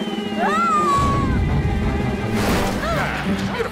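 Animated cartoon cat meowing in a children's show about cats, two drawn-out, pitch-sliding meows spaced a couple of seconds apart, set against music and busy background sound.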